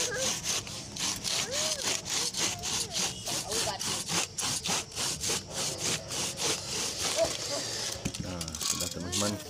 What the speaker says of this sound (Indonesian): saya pakai gergaji coba untuk memotongnya